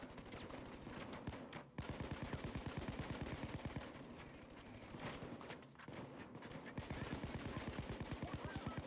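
Rapid automatic gunfire shooting out a window in the video game Payday 2, steady rattling bursts broken by two brief pauses, dense and continuous.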